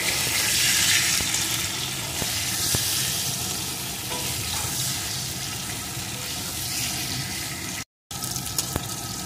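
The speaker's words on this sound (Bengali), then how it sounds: "বেগুনটাও আমি একটু ভেজে নেব।" Eggplant pieces frying in hot oil in a wok give a steady, dense sizzle that runs throughout, close and fairly loud, with a few brief clinks and a short dropout near the end.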